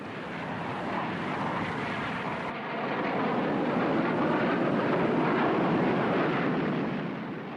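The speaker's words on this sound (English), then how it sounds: "There were furious air combats over Hanoi and Haiphong as every available MiG was thrown" Military jet aircraft roaring through air combat over Hanoi, a loud, steady broadband engine rush that swells in the second half as the jet passes close, with no voices.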